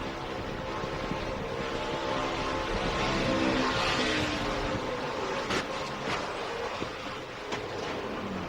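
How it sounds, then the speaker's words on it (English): Race trucks at Daytona or Talladega in a Craftsman Truck Series event, a loose truck's engine blipping and revving on throttle amid dense roaring field noise, steady and loud throughout. "You heard him playing with the throttle even before he got sideways."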